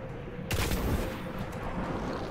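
A gun fires in the video game Destiny, with a sudden loud burst starting partway in and then a sustained rattle of shots trailing off.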